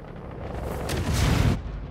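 A size 9 torpedo striking a Polaris ship in Star Citizen, a loud rumbling explosion that swells over about a second and cuts off abruptly, with no voices.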